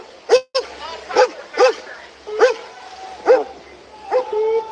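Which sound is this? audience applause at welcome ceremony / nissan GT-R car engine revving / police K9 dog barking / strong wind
police K9 dog barking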